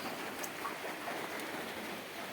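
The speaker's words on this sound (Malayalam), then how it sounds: "പുറത്തൊക്കെ നല്ല മഴയാണ് കേട്ടോ" Steady rain in Idukki, Kerala hisses evenly, a dense wash of patter that stays constant throughout with no voices.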